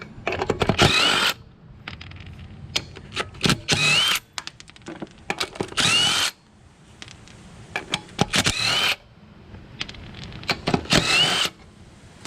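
An impact-style power tool removes bolts from the rear brakes of a 2000 Chevy Blazer V6 four-door, loud whirring bursts of about a second each repeating several times with short quiet gaps between.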